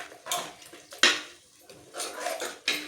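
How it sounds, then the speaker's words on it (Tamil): Metal utensil scraping and clinking against a pot of cowpea curry in bursts, a stirring motion repeated several times, close and moderately loud. "நல்லா மிக்ஸ் பண்ணி விட்டுக்கலாம்."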